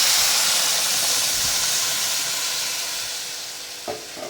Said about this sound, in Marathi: इथं तीन वाटी पाणी घातले मी